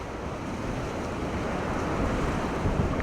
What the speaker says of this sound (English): The wind's going to shift and we're going to get this west wind.